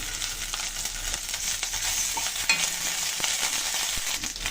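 Ginger and cumin paste frying in oil for lentils, a continuous crackling sizzle with scattered sharp pops and occasional stirring scrapes, close and clear with no talk.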